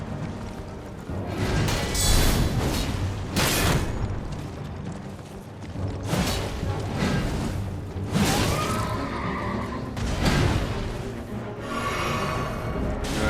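Horse whinnying during a boss fight in Elden Ring, a loud repeated neighing amid heavy booming impacts and battle noise throughout.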